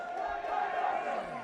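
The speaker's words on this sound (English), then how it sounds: "The crowd is trying to get Mr. Enock Cho into the match" Crowd of boxing supporters at a live bout between Enock Musambudzi and Lazarus Sithole, cheering and shouting in a steady, loud roar that swells slightly without pause.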